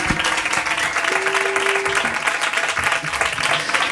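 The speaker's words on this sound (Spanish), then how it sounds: "Un aplauso para él, por favor" An audience at a live Christmas podcast show applauds a guest, steady dense clapping filling the room from start to finish.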